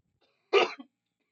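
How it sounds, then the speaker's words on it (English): A single short, harsh cough from a mildly ill man, close and fairly loud, followed by a brief softer throat sound, alone in an otherwise quiet room. "I am a little, tiny, witty, bitty sick, so I will be coughing from here to there."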